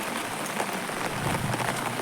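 Steady outdoor rain patters in a continuous, even hiss of drops with no voices, moderately quiet throughout.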